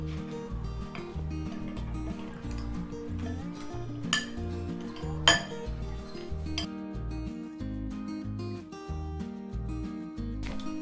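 Steady clinking of a spoon against a pot while ingredients for makara chaula are mixed, with a regular, repeating rhythm and a few sharper knocks near the middle and the end, over a faint background drone.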